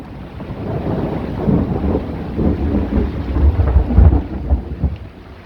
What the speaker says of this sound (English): Oh, that was lightning.